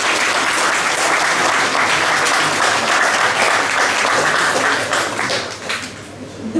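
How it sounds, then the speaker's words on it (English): A crowd applauds Lim of Malacca Tourism before a cycling tour, with loud, dense, continuous clapping that tapers slightly near the end. "please can we have an applause for Lim?"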